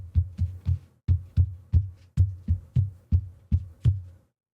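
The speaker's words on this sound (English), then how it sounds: "Now I'm going to go ahead and tap on my desk." Knuckles tap a wooden desk close to a Rode Procaster dynamic microphone, about a dozen dull, thumping knocks in an uneven rhythm, each with a short boomy tail, then silence.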